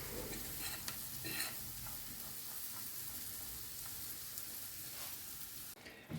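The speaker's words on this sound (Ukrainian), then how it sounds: "сюди додаю ще морковку, щоб смажилася теж все разом" Onion and carrot sizzle and fry steadily in a pan, with occasional stirring scrapes and a soft, continuous crackle throughout.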